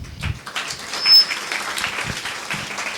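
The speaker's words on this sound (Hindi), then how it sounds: "एक बार जोरदार तालियां अपने लिए." Audience applause at an English academy training session, a dense burst of clapping from a room full of people that holds steady for a few seconds.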